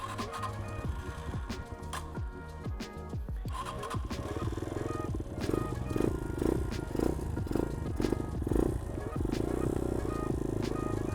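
A cold dirt bike engine cranks and sputters into life, then settles into a rough, pulsing idle that gradually steadies as it warms, fairly close and loud, with a person talking over it.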